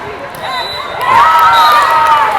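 A crowd cheers and shouts at a neighbouring volleyball game, rising in a swell of overlapping voices a short distance away, with nearby talk.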